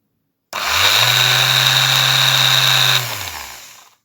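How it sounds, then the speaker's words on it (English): A small Ryobi electric sander runs poorly, whining steadily at close range with a high tonal buzz and a low motor hum, then spinning down and fading out over its last second, with no talk. "here is the little sander, and it doesn't run too good"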